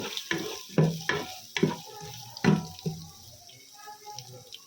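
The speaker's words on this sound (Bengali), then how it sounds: "মশলাগুলো একটু ভাজা ভাজা হয়ে গেছে" Whole spices (cardamom, peppercorns and cloves) fry in oil for bhuna khichuri, with a steady low sizzle broken by several sharp utensil knocks and scrapes of stirring, close up, with no speech.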